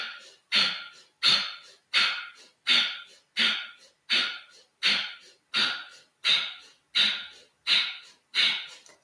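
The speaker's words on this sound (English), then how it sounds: "Last round, begin pumping your breath." Rapid pumping breaths during a yoga breathing exercise, twelve forceful rhythmic exhalations at an even pace of about one every three-quarters of a second, close and loud with short gaps between.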